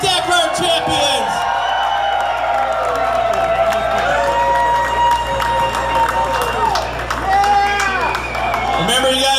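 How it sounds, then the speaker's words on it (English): A lively crowd at a celebration for off-road Dakar Rally champions cheers, whoops and claps continuously, a dense wall of voices with rising shouts close by. "let's get a chant going. USA, USA. USA! USA! And a round of applause!"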